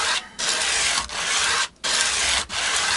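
Rhythmic rasping strokes of a file or sandpaper working the base of a guitar nut on a Vintage V100 Midge Ure guitar, four long close strokes separated by brief pauses.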